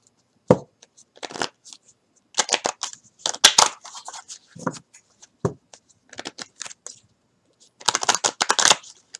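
Tarot cards shuffled by hand close up, giving irregular bursts of crisp riffling and slapping with short pauses between, and no one speaking.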